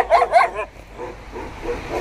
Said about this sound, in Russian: Ого, аж три собаки.